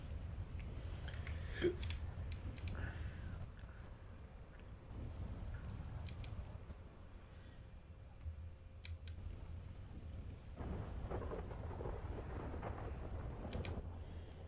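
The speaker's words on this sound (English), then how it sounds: "Fucking rain, dude." Steady rain with deep rolling thunder rumbles in a video game roleplay, a continuous storm bed with swelling and fading rumbles and no one talking.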